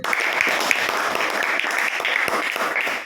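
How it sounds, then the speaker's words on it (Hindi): A classroom of students clapping together after an electrical conductivity practical with distilled and salt water, a steady burst of fairly close hand claps with no talk over it. "तो जोरदार ताली इनके लिए"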